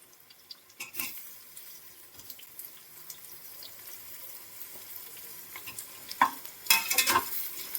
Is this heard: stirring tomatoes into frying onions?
yes